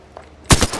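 Enemy gunfire in the video game Apex Legends, a short sharp burst of a few shots after a quiet moment, loud and close.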